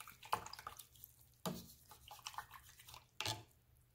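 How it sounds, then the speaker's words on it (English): An acrylic paint brush is rinsed in water, with a few close, quiet splashes and taps against the container and light swishing between them. "Okay, so I'm going to rinse my brush out."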